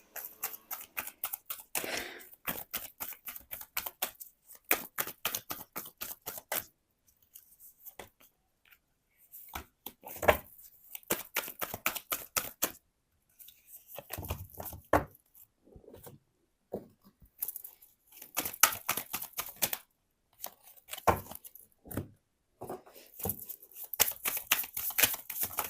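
Tarot cards are shuffled by hand in quick, close, soft riffling bursts with brief pauses between them, with occasional louder slaps as cards drop.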